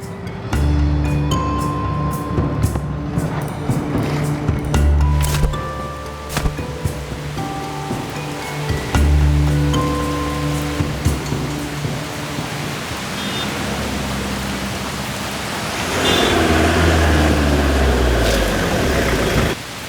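Steady rain falls at a bus stand, giving a continuous broadband hiss for the whole stretch. Tonal music plays alongside it, and the rain swells louder near the end.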